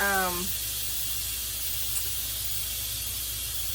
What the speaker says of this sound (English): you don't want to get your face, your hands, or anything in the way of that steam that's shooting up